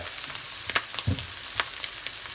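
Capsicum stir-fried quickly in a hot pan for fried spaghetti, a continuous close sizzle with crackling pops and a few scraping stirs, no talking.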